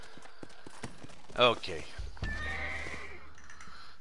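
A horse in the Red Dead Redemption video game gives a loud, close whinny midway through, surrounded by hoof clip-clops and thuds, with a voice speaking briefly.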